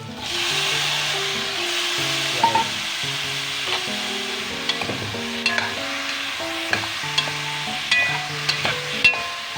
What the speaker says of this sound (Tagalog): Lagay ko na po yung mushroom.